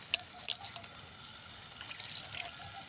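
Potatoes and home-grown eggplants being washed in water: gentle trickling and sloshing with a few sharp drips and splashes early on, close and fairly quiet, with no voices.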